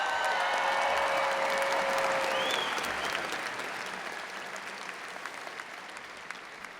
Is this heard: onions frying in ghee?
no